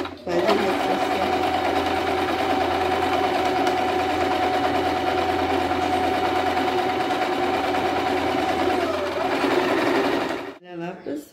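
A sewing machine runs a straight line of stitching on a lab coat, a fast, even, close mechanical whirr that holds steady and then stops abruptly, with a person speaking over it.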